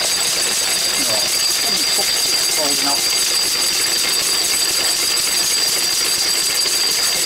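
A Lister D stationary engine drives a paint mill grinding chalk, giving a loud, steady mechanical chug and whine that never lets up, with a voice briefly heard over the noise.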